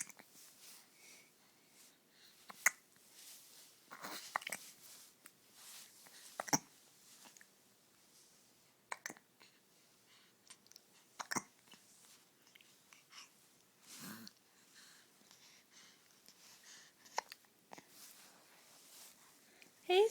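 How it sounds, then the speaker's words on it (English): A baby hiccups in short, sharp bursts scattered through a quiet room, each one isolated, with soft breathing and small mouth noises between them. "How's those hiccups?"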